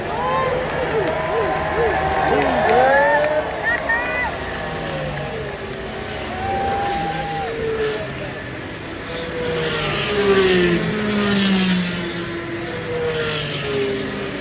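Indy 500 race cars on the pace lap pass by with engine tones that rise and sweep in overlapping waves. The roar swells and fades as cars go past, steady for the whole stretch.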